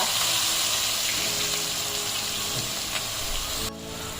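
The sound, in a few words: onion added to hot oil with asafoetida, sizzling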